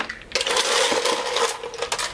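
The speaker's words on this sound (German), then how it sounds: "man nimmt ganz einfach einen wie man zu Hause hat, ein Geschirrtuch, tut die Eiswürfel da rein" Ice cubes tipped into a dish towel for crushing ice for a Bombay gin drink, giving a burst of clinking, rattling clatter that settles into shifting rustles and small knocks, close and fairly loud with no voices.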